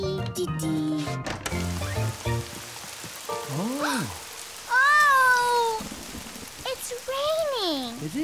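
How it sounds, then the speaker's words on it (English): A steady hiss of rain falls through a cartoon picnic scene, running beneath high, gliding meow-like cries, children's character voices and brief musical notes. "It is raining."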